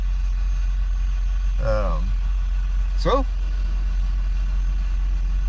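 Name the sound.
truck engine running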